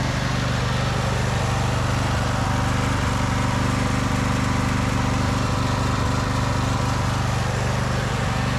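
The engine of a 2014 Craftsman T3000 riding mower runs steadily with the deck disengaged and the blades still, a loud, close, constant drone with no talking.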